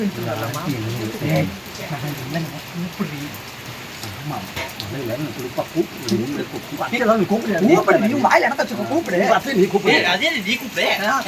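Steady rain falls throughout as a continuous broadband hiss, with people talking over it nearly the whole time.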